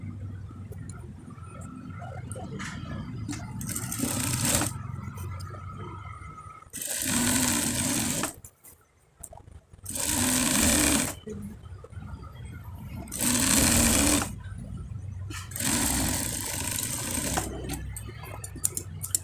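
A sewing machine stitches the side seams of a fatua in four loud, even runs of rapid needle chatter separated by pauses, with a faint voice between them.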